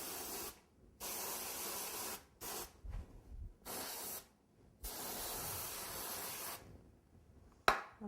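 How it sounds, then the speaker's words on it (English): Freeze spray hissing onto a chocolate Santa figure during cake decorating: four or five long, loud spray bursts of a second or so each, separated by short pauses, and a sharp knock at the very end. "And then take a little bit more freeze spray."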